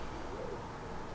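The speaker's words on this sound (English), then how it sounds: "Nice bird." An owl-like bird hoots briefly near a natural spring pool in Surrey, a soft tonal call over steady outdoor background noise.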